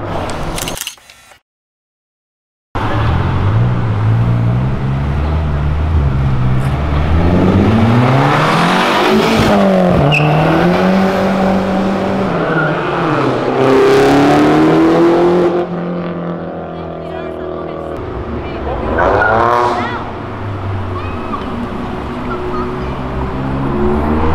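Loud turbocharged Chevrolet Celta, rated around 300 hp, revving hard and passing close at a car meet, engine pitch rising and falling with tire noise, then another rev later; brief silence near the start, faint voices underneath.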